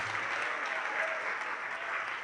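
A church congregation applauds together in sustained, dense clapping at a steady level, a crowd filling the space with continuous hand claps.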